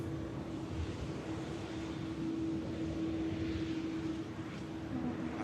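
An Aer Lingus airliner touches down at Manchester Airport, a steady broadband engine roar with a sustained droning hum, continuous and fairly distant throughout.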